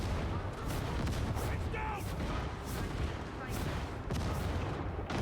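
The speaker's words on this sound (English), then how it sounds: "Oh no, that's a sniper." Sniper rifle gunfire in a video game, sharp cracks breaking through dense, continuous battle noise with booms and rumbling, while voices talk over the action.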